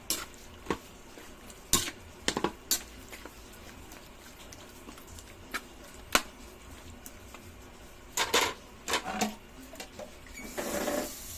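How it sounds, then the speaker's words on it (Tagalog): Salt being stirred into a cooking pot for a chicken and tomato stew with pechay, heard as scattered scraping and clinking of a utensil against the pot, with several louder clatters and a brief rushing burst near the end. "Halot natin para matunaw yung asin."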